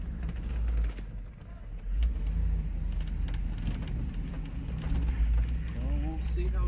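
A vehicle with a swapped LS LQ4 V8 engine and new tires drives along, giving a steady low engine rumble with slight swells, while a person talks over it.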